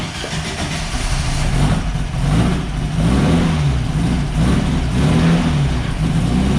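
A Baja Bug engine runs loud and steady just after its first start on two-year-old gas, idling roughly with a few swells in revs, alone with no voices.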